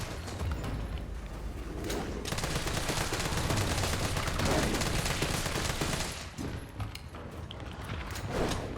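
Gunfire in the Resident Evil 3 remake video game, loud sustained bursts of rapid automatic shots filling most of the stretch, easing briefly near the end before picking up again.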